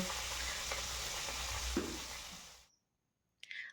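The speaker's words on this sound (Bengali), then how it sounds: "গরম করে তাতে সর্ষের তেল দিয়ে মাছগুলি দিয়ে দিচ্ছি মাছগুলি একদম হালকা করে ভেজে নেব" Hilsa fish pieces fry in hot mustard oil with a steady, loud sizzle that drops away to near silence after about two and a half seconds, then a brief spitting crackle returns at the end.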